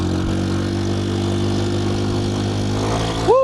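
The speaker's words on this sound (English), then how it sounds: "It's got a little bit of a leak. You can hear it backfiring and popping" A Honda 150cc scooter engine with a leaky exhaust runs close and loud in a steady, buzzing drone. Its pitch climbs briefly in a short rev near the end, though distinct backfire pops do not stand out clearly.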